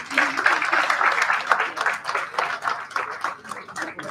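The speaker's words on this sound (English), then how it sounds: "A round of applause again for her." Applause from the audience at a management institute convocation ceremony during an awards presentation, a continuous dense clapping wash lasting several seconds with slight swells, moderately loud.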